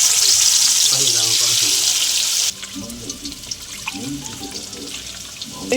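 Ground mustard-poppy paste hits hot oil in a pan for a rohu fish curry, a loud broadband sizzle that cuts down abruptly to a softer crackle and spatter.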